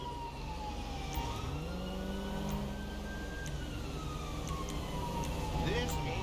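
A wailing ambulance siren in the video game LSPDFR rises and falls continuously, steady and moderately loud over a low engine rumble, with a voice speaking briefly.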